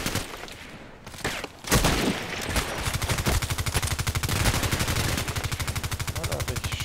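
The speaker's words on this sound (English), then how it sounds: "what are they shooting here?" Rapid automatic gunfire from a sniper video game, a long steady burst of evenly spaced shots following a few heavier single reports, loud and close.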